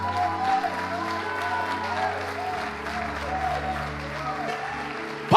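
Church congregation applauding steadily throughout, a dense continuous wash of clapping over sustained organ or keyboard chords, with a voice briefly audible in the mix.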